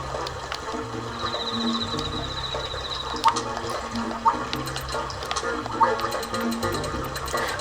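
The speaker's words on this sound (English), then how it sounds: "basically you can raise the water level if you want to." Rising water in Super Mario Maker 2 gives a steady flushing, gurgling fill with a mechanical whir, broken by a few sharp game blips over a continuous bed.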